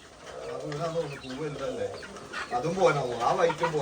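Chickens clucking with a rooster among them in a home yard in Kozhikode, Kerala, close and fairly loud over a steady stretch, with people talking throughout.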